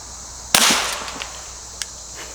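A single sharp pop of an Aguila Sniper Subsonic round fired outdoors, loud and close, with a quick decaying tail and a faint later echo.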